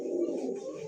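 Racing pigeons at a seller's stall, a single low, throaty coo heard close and fairly quiet, with no talking.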